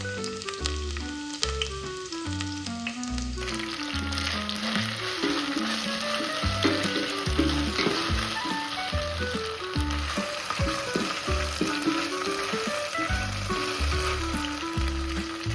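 Green chilies sizzling and frying in hot oil in a kadai while cooking biryani, a steady crackling sizzle with soft stirring scrapes throughout, close and moderately quiet, no voices.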